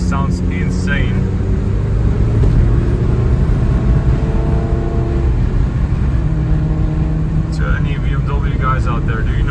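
A loud engine drone from a wide-body BMW E30 fills a tunnel, a steady rumbling roar holding for nearly ten seconds with a slight swell, while people talk over it.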